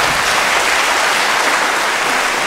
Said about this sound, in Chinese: 我们掌声欢迎啊